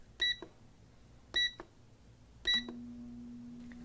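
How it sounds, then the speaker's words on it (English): Three short bursts of electronic beeps from an air fryer's control panel as its timer is set, each a quick cluster of tones about a second apart, the last followed by a low steady hum as the fryer starts running. "we place the chicken in an air fryer and set the timer"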